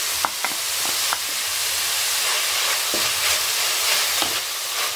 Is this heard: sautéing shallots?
yes